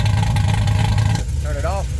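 A car engine idles with its modified exhaust opened, a low steady rumble close by that dips slightly midway, while a voice speaks over it.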